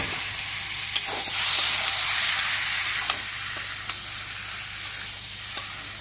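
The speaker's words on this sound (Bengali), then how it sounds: "তো আমি এবার এই যে সিদ্ধ করা মটনটা এবার খাসির মাংসটা দিয়ে দেবো।" Boiled mutton goes into spice masala frying in oil, producing a steady hissing sizzle with occasional soft clicks of stirring nearby.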